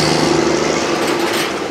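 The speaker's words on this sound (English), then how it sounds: "That cat tractor is one loud animal." Loud, steady engine drone of a running Caterpillar tractor at planting, close by and unbroken throughout.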